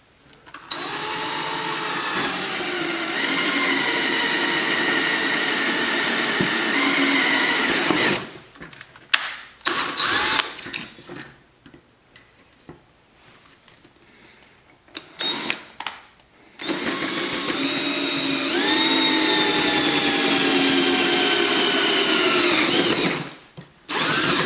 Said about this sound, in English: I'm going to drill these first 4 holes out